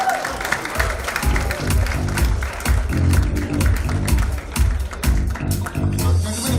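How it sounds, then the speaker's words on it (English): An audience at a film promotion event applauds steadily, dense and loud hand clapping that continues throughout, with a low rhythmic beat of background music beneath and no speech over it. "Big round of applause, ladies and gentlemen."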